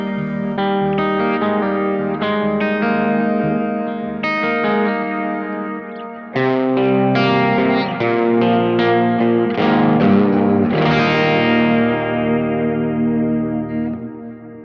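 Electric guitar through a Kemper with tremolo switched off, playing chords and picked notes with a gritty, edgy effects setting, steady and fairly loud with a slight chorus shimmer.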